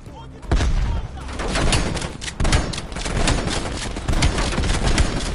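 Heavy gunfire in a Call of Duty Black Ops Cold War campaign battle, dense overlapping shots and bursts with thuds, loud and continuous after a quieter opening, with a voice faintly mixed in.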